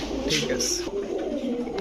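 Pigeons, including Teddy, Pankhi and Saharanpuri breeds, coo close by in a shop, with low, throaty calls overlapping continuously against a busy background.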